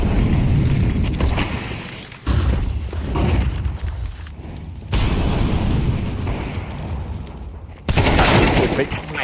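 Gunfire from a Counter-Strike-style tactical shooter match in a Champions of Champions Tour play-in, SABRE vs TNL: loud, dense bursts of shots and booms across the whole stretch, under excited esports casting.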